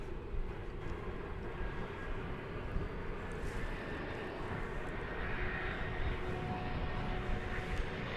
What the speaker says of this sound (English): have an incoming flight from Monterey. It's an Airbus A319, American Flight 831.